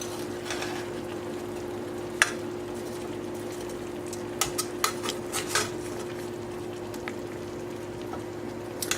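Chicken thighs and asparagus cooking in pan juices, a soft continuous simmer under scattered clinks of utensils against the pan, close and without voices.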